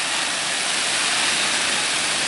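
Water sprays steadily onto a garden during evening watering, a close, continuous hiss with no breaks.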